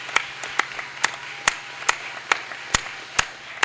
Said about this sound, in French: est-ce qu'on peut l'honorer encore avec les acclamations?